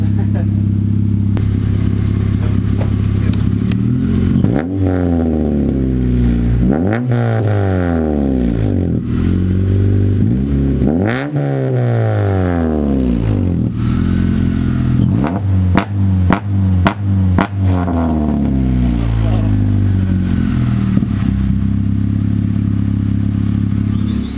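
Honda Civic EK hatchback engine running loud and steady, with repeated throttle blips rising and falling over a deep exhaust drone, close by throughout.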